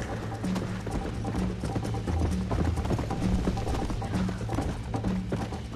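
Horses gallop in a race in the Red Dead Redemption video game, with rapid, continuous hoofbeats clattering steadily throughout at moderate volume.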